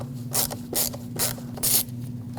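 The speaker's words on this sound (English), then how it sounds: "use a Phillips head screwdriver to remove the 2 screws that hold this down to the intake" A Phillips screwdriver works on the screws holding a part to the intake of a 2006-2015 Lexus IS250, giving four short, close ratcheting scrapes at an uneven rhythm over a low, steady hum.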